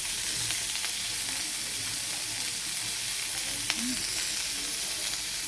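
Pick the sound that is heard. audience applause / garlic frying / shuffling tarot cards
garlic frying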